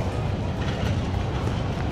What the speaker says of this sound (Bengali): little toy train,